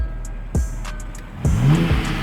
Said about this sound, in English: Rev that motherfucker, man.